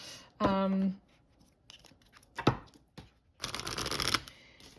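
Crisp papery riffling of oracle cards being shuffled close by, in a few bursts with the longest at the end, after a brief spoken word.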